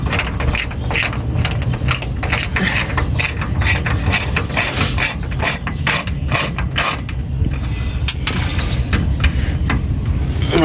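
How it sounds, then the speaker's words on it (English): A ratchet with a special socket spins a hub nut onto a 1999 Ford F350 dually wheel hub, giving a steady run of rapid, close metallic clicks that continues for about ten seconds with only brief pauses. "Take our special socket here, start screwing her on"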